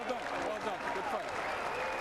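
Dense, steady applause from a heavyweight boxing crowd as the Clifford Etienne vs. Terrence Lewis fight goes the distance, a continuous wash of clapping filling the arena with a commentator talking over it.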